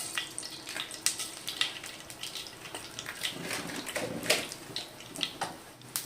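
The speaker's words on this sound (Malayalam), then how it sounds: "കടുകെല്ലാം നന്നായിട്ട് പൊട്ടി വന്നിട്ടുണ്ടെങ്കിൽ" Mustard seeds splutter in hot oil in a pan while cooking Kerala-style cabbage thoran. Sharp pops and crackles burst irregularly over a soft sizzling hiss at close range, with no talking.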